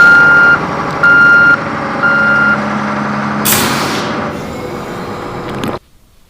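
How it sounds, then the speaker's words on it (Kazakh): An excavator in a Kazakh children's cartoon gives a loud, steady series of electronic reversing beeps, about three evenly spaced pulses, over a rumbling engine. A burst of hissing air follows before the sound cuts off. No one speaks. "Экскаватор."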